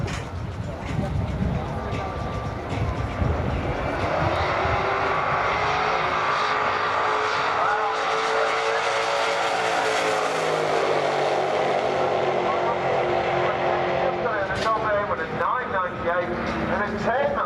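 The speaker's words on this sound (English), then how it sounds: "when you've got an engine that sounds like that" A Ford Mustang drag car's engine roars continuously at high revs at a drag strip, its pitch swelling as it passes by, loud and sustained with some talk under it.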